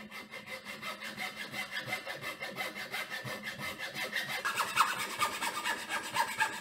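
A hand saw cuts through wood for a WWI-style trench club with rapid, rhythmic back-and-forth rasping strokes, close and steady, with no talking.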